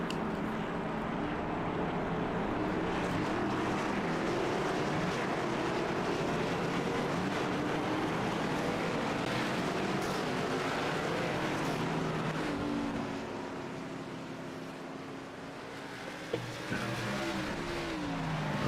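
ARCA race cars running warm-up laps, a continuous roar of engines blending together, swelling and fading as cars pass, easing off briefly near the end before picking up again.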